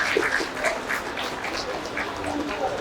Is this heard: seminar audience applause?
yes